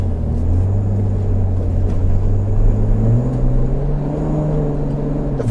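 A 2019 Nissan Patrol with a 4.8 engine driving, a steady low engine drone and road rumble inside the cabin, pitch rising slightly partway through as it pulls along.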